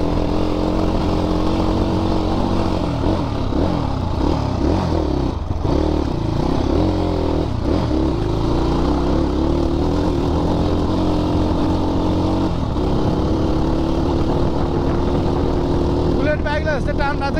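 A dirt bike rides a twisting village trail, its engine droning steadily and loudly close by, pitch shifting with throttle through the turns, while a person talks over it.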